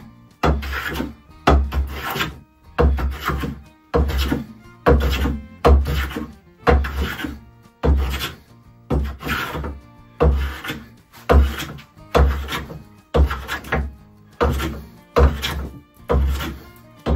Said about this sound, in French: je vais lui donner un petit coup de rabot sur chaque face